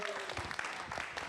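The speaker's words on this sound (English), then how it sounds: "Let's give them all a round of applause." Dense clapping from a church congregation during a Sunday service, steady and sustained through the whole moment, with a faint voice underneath.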